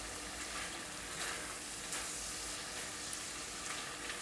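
Tomatoes cook in oil in a pan for paneer toofani, giving a faint, steady sizzle with soft crackles throughout and no voices.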